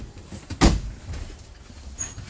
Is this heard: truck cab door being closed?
yes